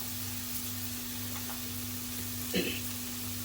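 Okra stir-fries in tempering in a pan, a soft, even sizzling hiss with one brief scrape of a stirring spoon.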